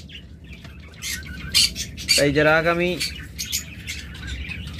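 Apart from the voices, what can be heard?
pet birds (lovebirds or cockatiels) chirping and squawking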